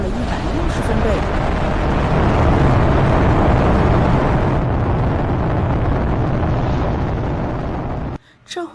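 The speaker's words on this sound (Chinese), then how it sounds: "看火箭升空是一件激动人心的事，然而听火箭发射的声音却是一件令人崩溃的事情。" A rocket launch gives a continuous, loud, broadband roar that holds steady for several seconds before cutting off abruptly near the end, heard alone.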